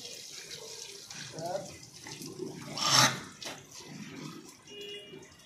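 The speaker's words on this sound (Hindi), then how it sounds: "तो भाई तभी मैं मुँह धो रहा हूँ" Water running from a tap while a man washes his face, a soft splashing flow with a brief louder gush near the middle, with talking in the background.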